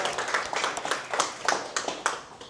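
An audience at a leadership conference in Sydney claps for the event coordinator, a brief, modest round of applause with individual claps audible in a quick, uneven rhythm, moderately close.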